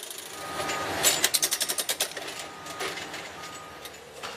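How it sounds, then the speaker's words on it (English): A railway spiker machine drives spikes into freshly welded track, giving a rapid run of about ten sharp, evenly spaced mechanical impacts over steady engine rumble, then scattered clanks and hydraulic noise. "After welding, a spiker immediately secures the track."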